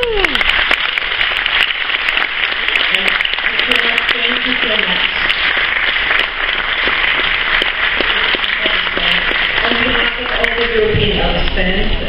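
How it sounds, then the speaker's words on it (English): Sustained audience applause during an award presentation on a cruise ship, dense clapping holding steady for the whole stretch, with scattered voices and faint background talk mixed underneath. "So please give a big hand of applause."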